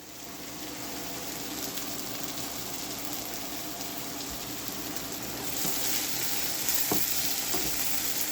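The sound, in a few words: garlic frying with chicken in a pan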